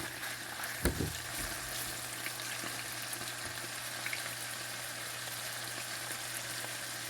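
Pasta frying in a pan with two teaspoons of soy sauce added gives a soft, continuous sizzle, with one sharp utensil knock early on as it is stirred.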